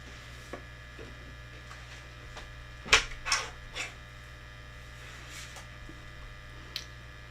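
A small paper trimmer slices card stock, heard as a brief cluster of crisp cutting and sliding sounds against a steady low electrical hum in a quiet room, with a few faint clicks before and after.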